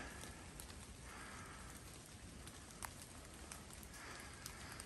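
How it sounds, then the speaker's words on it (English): Rain falls on leaves along a forest trail up the tallest peak in Georgia, a steady soft patter with occasional louder drips, continuous and gentle with no voices. "And the rain hitting those leaves, that sound is just real peaceful."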